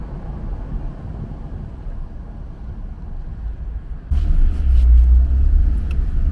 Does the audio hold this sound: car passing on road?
yes